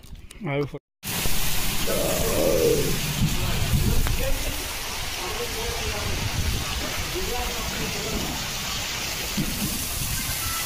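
Steady rain falls outdoors at a fishing spot, a dense, even hiss that carries on through the whole clip, with a brief voice at the start.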